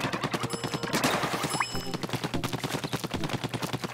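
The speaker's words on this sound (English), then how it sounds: "How long can I fire this thing for with my basic weapon?" Rapid, evenly spaced shots from a basic ink weapon firing in Splatoon 2, a steady mechanical stream of quick bursts that runs nonstop, with small game blips and a brief rising tone partway through.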